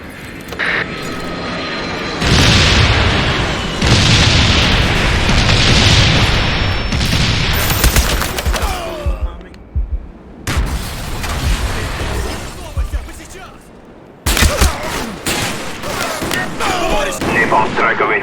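Napalm strike in the video game Black Ops: loud roaring aircraft engine passes followed by rumbling explosions and gunfire-like booms, with abrupt cuts between bursts of heavy noise.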